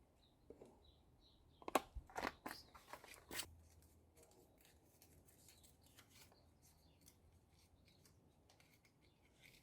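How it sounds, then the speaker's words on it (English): A razor blade cuts window tint film on a Honda Clarity trunk window, giving a few sharp close scraping slices early on, then faint intermittent rustling and scratching. "To cut it, I use this the razor blade"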